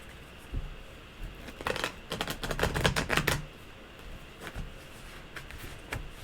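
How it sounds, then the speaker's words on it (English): A deck of tarot cards is shuffled nearby with a quick run of crisp riffling flutters, then a few softer scattered card snaps in a quiet room. "I love to shuffle these up really good"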